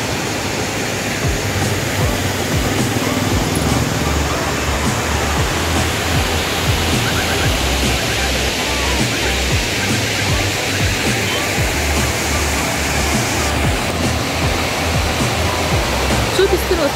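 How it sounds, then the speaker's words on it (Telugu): Water pours over Dindi Dam like a broad waterfall, a loud, continuous roar of rushing water that stays even throughout, with faint voices buried beneath it. "చాలా పెద్ద వాటర్ ఫాల్ ఉన్నట్టుందండి"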